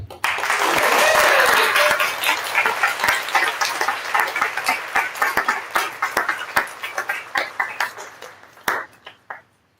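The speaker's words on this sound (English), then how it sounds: "please feel free to put your hands together with thunderous applause" An audience applauds young writers at an awards event, a loud burst of many hands clapping that quickly thins into scattered, uneven individual claps and dies away, with some cheering early on.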